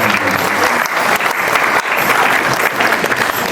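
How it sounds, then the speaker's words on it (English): An audience at a seafront town band concert applauds, a dense, steady burst of clapping close by that fills the whole moment. "A round of applause."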